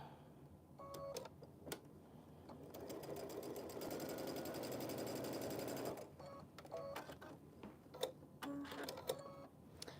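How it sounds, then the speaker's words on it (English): Sewing machine stitching quilt blocks with a quarter-inch seam, a steady close mechanical whir lasting about three seconds, with scattered clicks and fabric handling before and after. "I'm going to sew these two together using a 1/4-inch seam"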